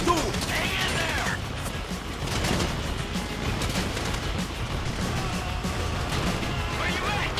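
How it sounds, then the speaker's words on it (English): Gunfire rattles through a Grand Theft Auto V heist mission, The Paleto Score, as dense, steady bursts of shots and crashing impacts blend with game noise and voices for the whole stretch. "You hear that gunfire?"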